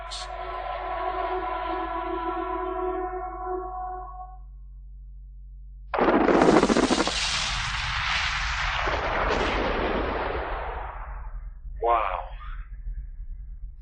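Mine blast using 180,000 tons of explosives at a gold mining operation: a sudden loud, deep rumbling detonation bursts in after a low tonal hum and rolls on for several seconds, followed by a brief later crack.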